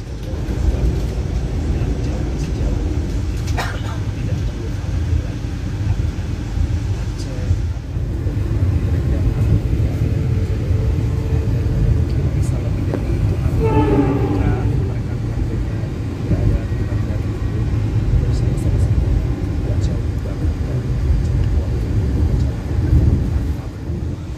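A passenger train on the line from Jatinegara toward Gambir rolls on at speed, giving a continuous low rumbling roar from inside the carriage with occasional faint clanks and a brief squeal, while someone talks quietly underneath.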